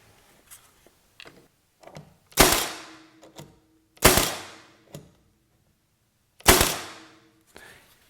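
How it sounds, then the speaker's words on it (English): Milwaukee cordless brad nailer firing three sharp, loud shots at spaced intervals, each a hard crack with a short ringing tail, with faint handling clicks between them. "Here's how the Milwaukee gun fires."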